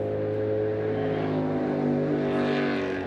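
A jetsprint racing boat engine at a New Zealand championship round in Whanganui, a loud continuous roaring drone that holds steady throughout, heard at close to mid distance with no voices over it.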